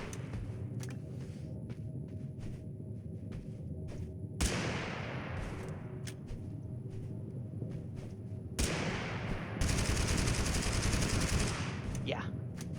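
Bursts of AK rifle gunfire in the video game Totally Accurate Battlegrounds, loud sustained automatic volleys at several points, with a heavier dense stretch toward the end over steady game background noise.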